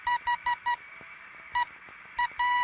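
Morse code signals on a ham radio receiver: crisp, evenly pitched beeps in quick groups of dots and dashes, with pauses between them and then one long held tone over faint static.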